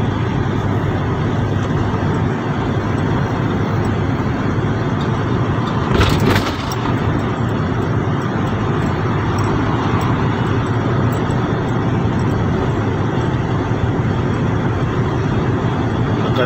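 Truck rolling over a series of speed breakers, a continuous loud engine and road rumble with one sharp rattling jolt partway through, no talking.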